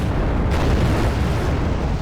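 Napalm strikes in Wargame: Red Dragon produce a continuous loud, dense roar of fire and explosions rumbling steadily without pause, no voices.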